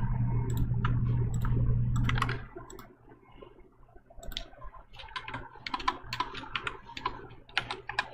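Slow, uneven typing on a computer keyboard, single key clicks picking up after a low steady hum fades, close and clear with no talk.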